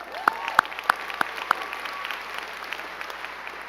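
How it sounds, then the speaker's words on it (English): A large crowd at a university graduation ceremony applauds, a steady, somewhat distant wash of clapping lasting several seconds, punctuated early by a few sharp clicks. "let's give him a round of applause for that."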